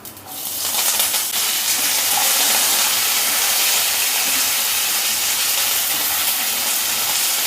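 Sliced ginger and curry leaves fry in hot oil in a pan for a Tamil tempered masala idli, giving a loud, steady hiss and sizzle that starts quickly and holds unbroken throughout, with no talking.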